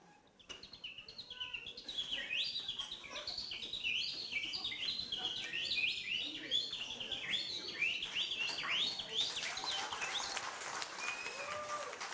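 A stage parodist imitates the birds of Kyzylorda with his voice, producing a quick, continuous string of high chirps and whistled tweets. A wash of audience applause or crowd noise swells toward the end.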